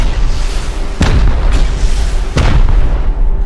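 Two loud broadband booms from rocket explosions in the survival video game Rust, about a second and a half apart, each with a sharp crack and a rumbling low tail, over a steady background hum.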